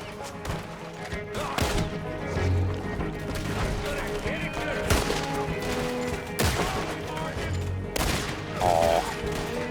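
Repeater rifle gunfire in the Red Dead Redemption 2 video game, sharp shots cracking out irregularly amid a busy battle mix of music and effects, with a voice talking over parts of it.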